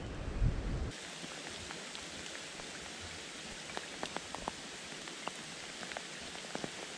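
Heavy rain pours steadily outdoors beside a trout-fishing spot, a dense continuous hiss with scattered close drop impacts, loud and unbroken after a brief opening thump.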